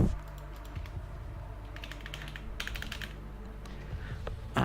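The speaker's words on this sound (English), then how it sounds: "It's my keyboard." Steady typing on a computer keyboard at a PC setup, with rapid clicking keystrokes running throughout and occasional bursts of faster strokes, close and fairly quiet over a low background hum.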